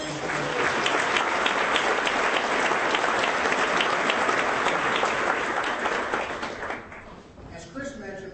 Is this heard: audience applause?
yes